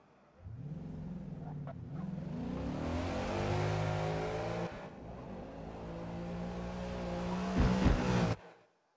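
A race car engine in Forza Motorsport practice revs hard and climbs through the gears, loud and close, with a brief shift dip midway and a final surge before it cuts off abruptly.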